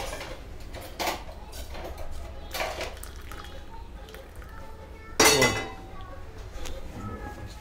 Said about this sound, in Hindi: चम्मच हिला दो